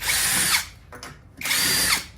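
Power drill fitted with a T25 bit backing out screws on a Floatwheel ADV board, two loud close whirring bursts separated by a short pause.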